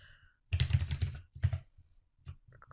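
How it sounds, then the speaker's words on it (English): Keys clatter on a computer keyboard as an SQL query is typed, a close burst of quick clicks, then a pause and a few scattered keystrokes, soft and without talk. "I'm just going to write create table Kristen new"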